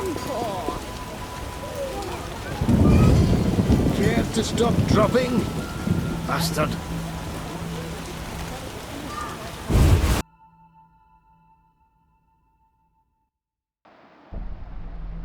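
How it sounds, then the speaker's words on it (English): Heavy rain pours down with crackling rumbles of thunder in the video game The Witcher as someone speaks over the storm; it cuts to near silence before the rain briefly returns. "What a downpour!"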